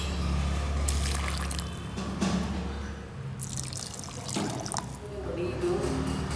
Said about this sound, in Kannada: ಇದಕ್ಕೆ ನೀರನ್ನು ಹಾಕ್ತಾ ಇದ್ದೀನಿ